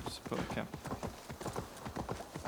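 Horse hooves clip-clop in Assassin's Creed Valhalla, a quick, close, regular series of hoofbeats at a trot continuing throughout, with a voice audible alongside.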